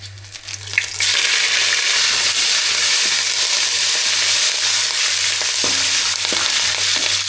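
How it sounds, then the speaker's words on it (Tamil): Cinnamon and curry leaves dropped into hot oil for meal maker gravy, a sudden loud burst of frying that settles into a dense steady sizzle with a low hum underneath and a few faint taps, no speech. "எண்ணெய் நல்லா சூடாயிடுச்சு பட்டை வகையெல்லாம் சேர்த்துக்கலாம் கருவேப்பிலை சேர்த்துக்கலாம்"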